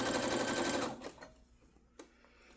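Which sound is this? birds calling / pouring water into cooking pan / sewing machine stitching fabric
sewing machine stitching fabric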